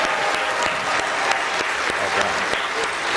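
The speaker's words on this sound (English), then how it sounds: "Would you give a big cheer to the choirs of Portland Christian Center?" A large audience at an annual Christmas celebration concert in Portland claps and cheers for church choirs, with steady dense applause filling the space throughout.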